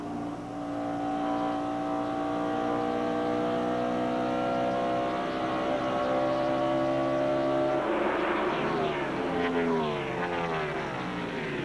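NASCAR Winston Cup stock cars at Charlotte Motor Speedway in 1997, a loud sustained engine roar with a steady pitch that shifts late as cars pass close by, no voices.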